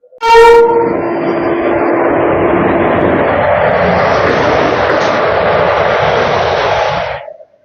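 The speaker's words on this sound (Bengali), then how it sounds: "ব্যান্ডেল রেলওয়ে স্টেশনের এক নম্বর প্ল্যাটফর্মে প্রবেশ করছে আমাদের মোকামা এক্সপ্রেস" Mokama Express entering platform one at Bandel station, a loud close horn blast opening over a steady rumbling roar of wheels and carriages that holds for about seven seconds before cutting off.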